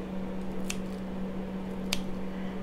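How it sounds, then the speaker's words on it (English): Kitchen shears snip through sugar-coated candied ginger, cutting it into strips: two short, crisp cuts about a second apart, close and fairly quiet over a steady background hum. "I just take the kitchen shears and just cut it into little strips"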